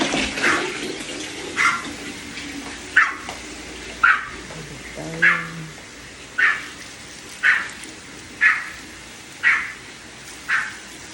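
Water from a hose or can spattering onto potted plants at a resort in the morning, arriving in regular bursts about once a second, fairly close, with a faint voice in the background.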